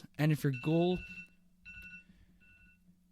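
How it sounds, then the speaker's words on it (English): A person speaks briefly at the start, then a phone alarm goes off, chiming with repeated electronic tones that sound alone. "that was my phone alarm randomly went off."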